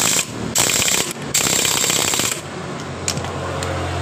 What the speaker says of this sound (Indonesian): Perhatikan ketika saya mengancing menggunakan impact, ditahan di bagian dari belakang ini dan kemudian dikancing.